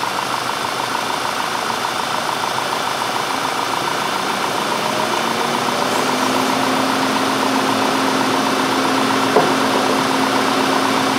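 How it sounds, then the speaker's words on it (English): A radiator cooling fan whirs steadily on a 2010 VW CC over the idling engine, a dense continuous rush that stays even throughout with a low tone rising partway through as the fan spins up. "The fan probably keeps kicking on because I didn't clear any of those faults out of there."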